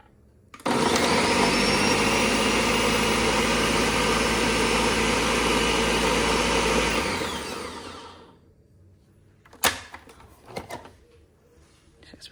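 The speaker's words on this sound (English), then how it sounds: "So now we're just gonna blend." A blender whirs loudly and steadily for several seconds, chopping basil pesto with garlic and olive oil, then spins down to a stop, followed by a few clattering knocks as the lid or jar is handled.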